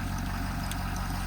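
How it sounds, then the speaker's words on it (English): A 2018 Ford F-550 diesel crew-cab mechanics truck idles after a remote start, a steady, close, low rumbling drone that holds level without change. "Truck does have remote start."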